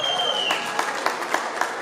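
Guests at a New Year's Eve party clap along in a steady, rhythmic beat for a couple dancing, with a faint tone fading under the clapping.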